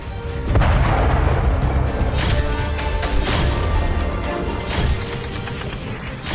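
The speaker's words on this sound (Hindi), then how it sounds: "खरसोन से लेकर डोनेत्स्क तक गोलाबारी जारी है" Artillery shelling in the war in Ukraine, along the front from Kherson to Donetsk: a loud, dense, continuous rumble broken by several heavy booming impacts.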